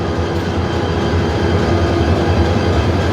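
A railway locomotive at the Dhaka loco shed in Bangladesh gives a steady, loud low rumble with a constant mechanical drone, continuous and close, with no talk.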